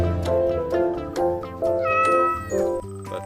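A cat meows several times in quick succession, each call clear and close with a rising, wavering tone, the last one longer and more drawn out.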